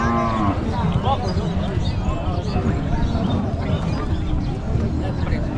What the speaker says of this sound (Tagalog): Yan na yung isang kalabaw.